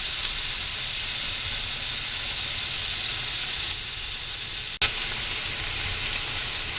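Yellow summer squash browns in a hot pan for a Mexican squash side dish, a loud, continuous sizzle and hiss that holds steady, with one brief sharp knock near the end.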